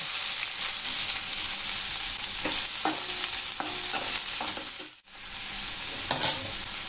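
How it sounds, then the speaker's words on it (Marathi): Onion, mustard seeds and cumin fry in a pan for elephant yam curry, giving a steady close sizzle broken by several scraping stirs, with a brief dip near the end before the frying carries on. "अर्धा चमचा मोहरी घालायची, अर्धा चमचा जिरे घालायचे आणि आता एक मोठा कांदा मी असं चिरून घेतल्यावर तो घालूया"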